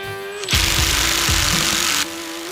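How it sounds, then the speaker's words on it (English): A Makita or Bosch cordless drill whirs loudly in a short burst, its motor pitch dipping under load as it drives a deck screw, then cutting off. "Now for the Makita and the Bosch on the deck screws."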